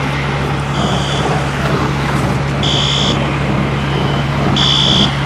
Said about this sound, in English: And the fire truck's like right here.